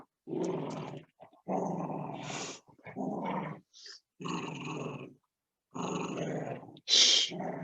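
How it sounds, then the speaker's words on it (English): A pet dog growls while playing during a home yoga session, loud and close, in several rough bursts broken by brief pauses, ending with a sharper yip-like snort. "Sorry, that's my dog really playing"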